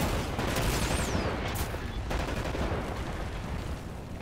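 Sustained gunfire and battle noise from Wolfenstein: The New Order fill the scene, a loud, dense wash of shots and rumble with a whistling streak early on, continuing without talk.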